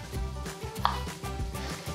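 A kitchen knife chops fresh ginger on a board in quick, even strokes, several cuts in close, steady rhythm, near and clear with no talking.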